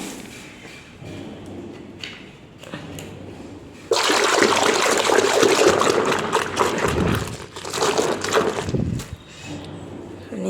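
Water splashes and sloshes loudly as clothes are soaked in a bucket with Surf Excel detergent, a continuous churning burst after a quieter start with small clinks and rustles, easing off toward the end.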